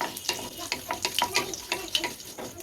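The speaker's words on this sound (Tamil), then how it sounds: "இப்போ லோ ஃப்ளேமில் வச்சு நல்லா வதக்கி விட்டுப்போம்" Dried red chillies and curry leaves fry in oil over a low flame for pepper rasam, giving a close, steady crackle of small sputtering pops with no talk.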